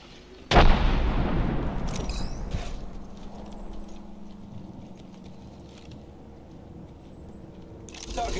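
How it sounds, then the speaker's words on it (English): Gunfire and explosions from the Apex Legends video game: a sharp, loud blast near the start, followed by a long rumbling decay with scattered crackles and faint distant shots, and another burst at the end. "They're shooting at me."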